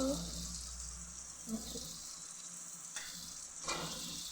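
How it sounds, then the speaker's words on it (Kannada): Coriander leaf vadas frying in hot oil, a steady close sizzle running the whole time with brief splashes and a louder burst near the middle as more batter goes in. "ಈಗ ಒಡಿ ತಯಾರಾಗಿದ್ದ ಒಡಿನ ಹಾಕೋತಾ ಇದ್ದೀನಿ ನೋಡಿ"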